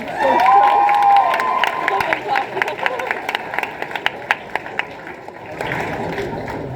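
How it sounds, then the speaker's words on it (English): A school auditorium audience at a high school all-candidates election debate claps and cheers for host and moderator Brianna Chen, a dense, loud burst with a whistle near the start that thins into scattered claps. "Please give her a big round of applause."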